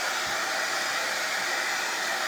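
A hair dryer blows on a painted gingerbread ornament, a loud, close, continuous whooshing rush that stays even throughout with no speech.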